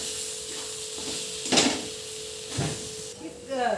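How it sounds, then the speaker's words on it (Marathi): A spoon stirs a coconut and sesame gravy in a pan, giving a couple of brief scraping swishes over a low, steady hiss. A faint voice is present in the background. "हे खोबरं आणि त्याच्यामध्ये तीळ टाकून घेतलेलं आहे ही व्यवस्थित असं हलवून घ्यायचं"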